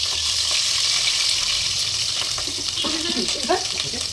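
Chili sizzling in hot oil in a pan while being stirred for Tamil Nadu style chicken biryani, a steady close frying hiss with occasional scraping and stirring clinks toward the end.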